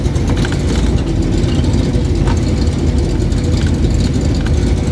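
A Jeep engine idles steadily nearby, a loud, continuous low rumble with no voices.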